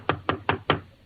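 Four evenly spaced knocks on a door, sharp and fairly close, set outside a senator's house in a 1946 radio comedy.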